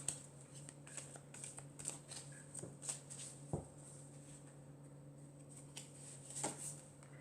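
Tarot-style reading cards shuffled and handled, soft repeated riffling and flicking taps under a steady low hum, quiet and close with no talk.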